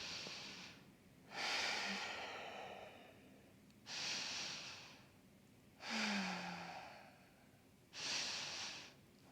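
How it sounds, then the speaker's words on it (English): Slow, deep breaths in a yoga pose, five long airy exhales spaced about two seconds apart, close and soft, alone with no talk. "Breathe for 3 full breaths."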